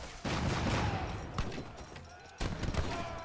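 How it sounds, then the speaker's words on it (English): Falconet cannons firing in an Age of Empires 3 battle, two bursts of booming shots with a rattle of gunfire around them, the second volley near the end. "Falconets firing away."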